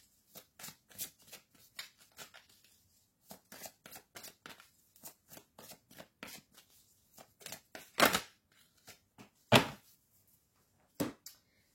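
Playing cards are shuffled and drawn in a quiet room, giving a string of crisp riffling snaps and flicks in irregular bursts, with a few louder slaps standing out.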